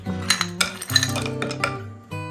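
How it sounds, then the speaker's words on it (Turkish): Ice cubes drop into a bowl with a quick run of bright, close clinks and knocks, followed by a final sharper clatter. "Buz koyuyoruz."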